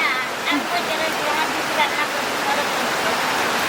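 Heavy rain pours down steadily in a broad, even wash, close and fairly loud throughout with no other clear sounds.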